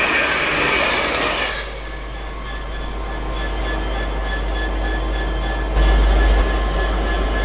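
Class 801 train speeding through a station on the East Coast Main Line, a loud sustained roar and wheel hiss passing close by, with a heavy low rumble swelling near the end.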